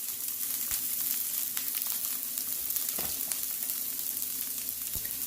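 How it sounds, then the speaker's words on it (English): Onions brown in a pan for a low-carb Philly cheesesteak, giving a steady close sizzle with scattered small crackles and a couple of light utensil taps, with no talking. "he's going to brown some onion"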